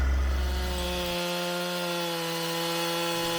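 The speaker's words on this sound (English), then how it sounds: "I still had to go back with the chainsaw and cut the ends of these logs" A chainsaw trims the ends of logs for stock-tank raised beds, giving a loud, close, steady engine whine that holds for the whole stretch with no talking.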